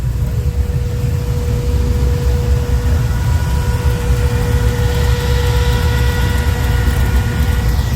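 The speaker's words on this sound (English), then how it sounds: "Then you revved it up." A car engine runs loud and close at a car meet, a steady low rumble with a faint whine, swelling slightly partway through as it is revved up, with no talk over it.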